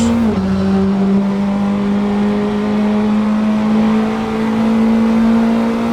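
Praga R1 race car lapping the Barcelona GP circuit in Assetto Corsa, its engine holding a loud, steady high-revving drone after a brief dip at the start, no talk.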